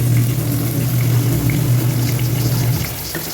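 Food sautés in a pan, a steady close sizzle and hiss over a low constant hum, easing slightly near the end.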